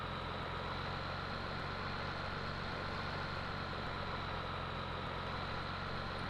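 A tractor engine in Farming Simulator 17 drones steadily and loudly at a constant pitch throughout, with a low, even rumble and no talking.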